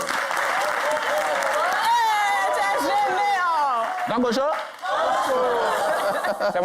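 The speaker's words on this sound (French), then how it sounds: "C'est notre ami Ismo, que je vous prie d'applaudir." A TV show studio crowd applauds loudly for a comedian while people whoop, chatter and laugh over the clapping, with a brief dip before the cheering picks up again.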